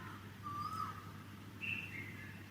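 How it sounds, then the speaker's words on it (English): Birds in the dawn chorus in Mayur Vihar, Delhi, give a few faint, thin whistled calls over steady low background hum, distant and sparse. "listening to the Dawn Chorus of birds"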